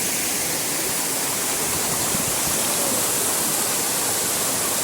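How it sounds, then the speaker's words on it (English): Loud, dense roar of a waterfall heard from the base of the main falls, a constant broadband rush of falling water with no pauses. "Here we are at the base of the main falls."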